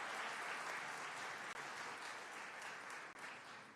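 Sustained applause from the audience at the Golden Joystick Awards, dense and even clapping continuing throughout with only brief dips.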